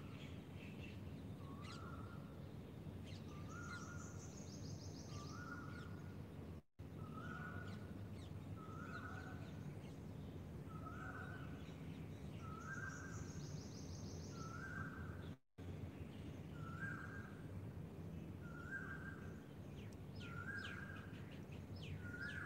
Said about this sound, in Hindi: पक्षियों की मधुर आवाज आ रही है